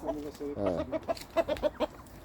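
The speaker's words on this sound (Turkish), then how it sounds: "Şu Arap yok mu şu tavuk?" A chicken clucks close by in a string of short, choppy calls with a brief squawk, while a person's voice murmurs in the background.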